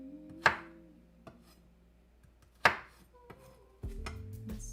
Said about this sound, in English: Just gonna finish chopping this up